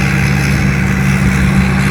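A turbocharged Isuzu 6HK1 six-cylinder, water-cooled diesel of about 270 horsepower runs in a combine harvester, a loud, steady close-up drone with a firm low hum and no talk.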